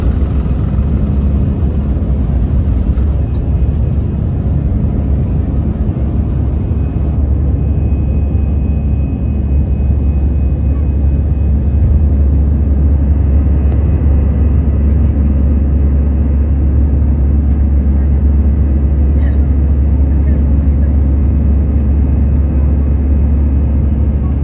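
Inside an airplane cabin during boarding before takeoff, a loud, constant low engine and air-system rumble fills the space, steady and unbroken with faint background activity.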